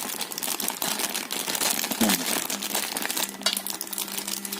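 Plastic wrapping crinkles and rustles continuously as it is pulled tight and slowly folded around soft pork rib cartilage for fermented sausage, close and steady throughout.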